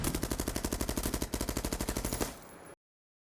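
Rapid automatic gunfire from the Yuqi M.O. music video, a fast, even burst of loud shots firing in steady rhythm for over two seconds before cutting off abruptly.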